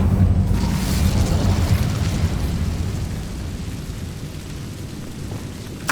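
A fiery Incendio spell blast in a Harry Potter video game erupts as a loud, booming roar of flame that slowly fades, ending with a brief sharp crackle.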